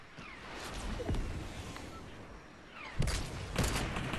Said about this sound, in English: Here comes a rocket.